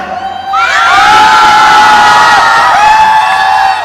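A crowd at a promotional event for the film Kyaa Kool Hai Hum 3 erupts into loud, sustained cheering and high shouting that swells after a short quiet start and stays strong to the end.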